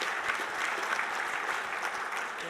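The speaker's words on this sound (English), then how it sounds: "just give her a round of applause" A crowd at a university Hall of Fame induction ceremony applauds continuously, a thick, even patter of many hands at moderate loudness.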